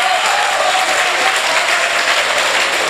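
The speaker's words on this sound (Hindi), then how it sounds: "ताली बजा के खैर मकदम करो दोबारा" Sustained, loud applause from a live audience at an outdoor Urdu poetry mushaira, a dense steady wash of clapping from many hands with no voices over it.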